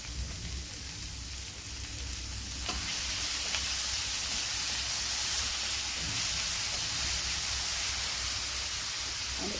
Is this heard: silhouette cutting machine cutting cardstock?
no